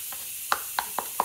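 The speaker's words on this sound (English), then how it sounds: "I'm just gonna scrape that out" A hand tool scraping packed dirt out of a car's independent rear suspension after the coil spring is removed, four short close scratchy strokes in a quick irregular rhythm with no talk.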